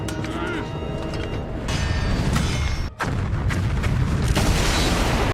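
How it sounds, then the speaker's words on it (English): An explosion in an Avatar cartoon episode, with dense rumbling booms and debris crashing loudly, a brief dip, then a continued roaring blast that fills the scene. "Yep, it blew up the temple."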